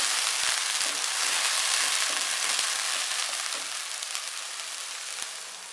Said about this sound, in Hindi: प्याज और हरी मिर्च पिसी हुई, इसको अच्छी तरह से फ्राई करेंगे